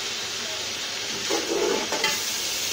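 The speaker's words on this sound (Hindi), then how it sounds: "तो अच्छी तरह से हम मिक्स करेंगे।" Potato rice with turmeric is stirred in a sizzling pan, a steady frying hiss broken by a short scraping stir near the middle and a brief clink, with no talk.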